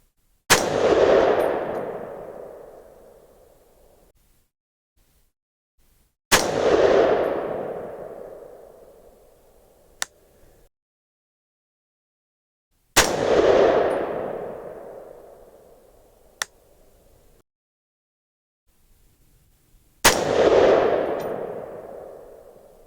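A .308 rifle fitted with a SilencerCo Omega 36M suppressor fires four sharp, loud shots spaced several seconds apart outdoors, each followed by a long fading echo and a faint distant ring of the steel target.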